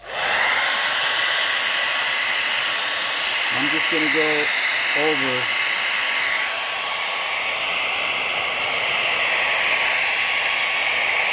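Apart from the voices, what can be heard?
hair dryer blowing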